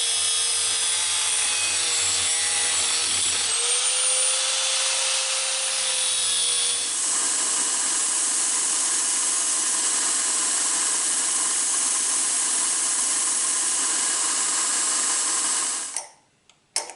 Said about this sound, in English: I'm gonna take the angle grinder and cut